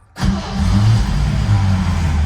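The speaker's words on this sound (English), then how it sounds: "And then I'll start the car up" A 1959 Chevrolet Impala engine cranks and catches after a brief silence, then settles into a loud, steady, rumbling run close by.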